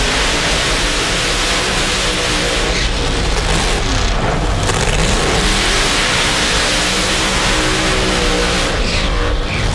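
Drag racing cars roaring at Houston Raceway Park in the Lucas Oil Drag Racing Series, a loud, continuous wall of engine noise with shifting pitch throughout.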